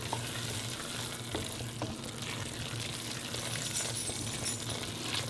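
Chicken and andouille gumbo simmering in a pot with fresh garlic and a seasoning mix just stirred in, giving a steady close bubbling sizzle with faint stirring scrapes and no talk.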